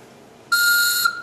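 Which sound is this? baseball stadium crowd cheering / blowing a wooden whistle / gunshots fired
blowing a wooden whistle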